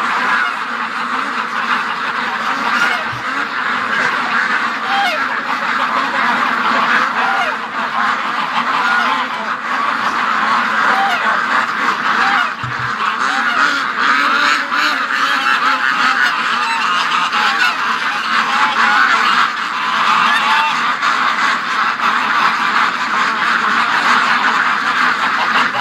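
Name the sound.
ducks quacking outdoors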